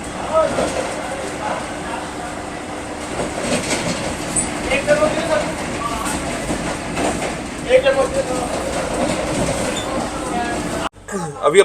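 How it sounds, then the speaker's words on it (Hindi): Vande Bharat Express train pulling into DDU railway station, heard from inside as a steady rolling rumble with rhythmic clicks and squeals, under a voice talking, ending with a sudden cut and a thump. "अभी अपनी ट्रेन एंटर कर रही है डीडीयू रेलवे स्टेशन"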